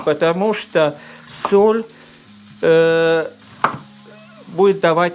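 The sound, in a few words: potatoes frying in a pan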